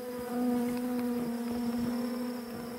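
Honey bees drone around an opened hive during a honey harvest, a steady close buzz that holds throughout with faint knocks beneath.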